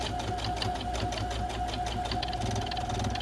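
A sewing machine top stitching a flat seam on a homemade costume runs steadily and close by, a fast even mechanical whirr with rapid needle ticking throughout.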